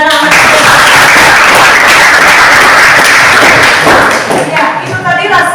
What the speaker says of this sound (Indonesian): Tepuk tangan kepada anak-anak.